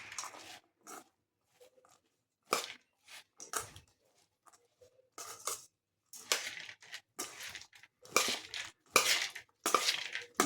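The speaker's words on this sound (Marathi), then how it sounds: "आता हे छान मिक्स करून घ्यायचं आहे आपल्याला" Spicy, nutritious sprouts chaat salad being mixed in a bowl, heard as close, irregular bursts of crunchy clinking and scraping with short pauses between strokes and no talking.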